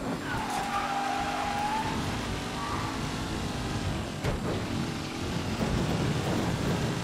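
A car driven through city intersections in the Mafia 3 video game, its steady engine drone running throughout, with brief tire squeal and a short whine early on and no talking.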